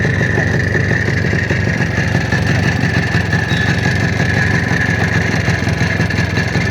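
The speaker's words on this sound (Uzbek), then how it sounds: "Motorlarni eshitib ko'ring aka, ovozlarni mana." A minivan engine idles steadily and continuously, a close, even mechanical hum with no pauses and no talking.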